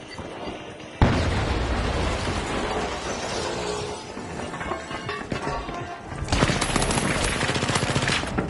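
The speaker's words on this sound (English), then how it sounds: "Sending a frag!" A frag grenade explosion and gunfire in a video game: a sudden loud blast followed by dense, continuous crackling shots and bursts, intensifying again toward the end.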